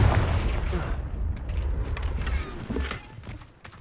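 A Confringo spell is cast in the video game Hogwarts Legacy, giving a brief, sharp blast with a rumbling low boom that quickly fades into softer game ambience.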